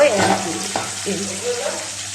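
Fish curry with tomato cooks in a covered pan, giving a soft continuous sizzle and a brief stirring scrape up close, fading to a gentle bubbling hiss.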